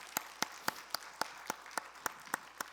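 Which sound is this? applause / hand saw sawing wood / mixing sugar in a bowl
applause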